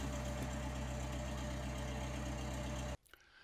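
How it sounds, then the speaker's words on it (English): A small aircraft piston engine runs steadily at idle, a loud continuous low throb that cuts off abruptly near the end, leaving faint clicks and rustles. "how to start the engine and control the surfaces"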